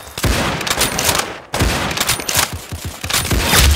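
Video game gunfire comes in dense, loud bursts of rapid shots. The bursts are close and overlapping and break off briefly around the middle before resuming just as heavily.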